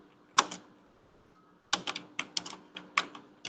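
Clicky computer keyboard typing close by, a single keystroke followed after a pause by a quick irregular burst of taps, quiet room otherwise.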